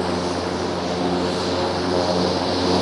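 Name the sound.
MQ-9 Reaper drone aircraft flying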